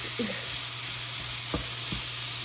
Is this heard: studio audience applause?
no